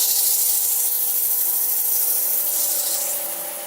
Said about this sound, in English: I'm going to sand, start at 240 and up to 400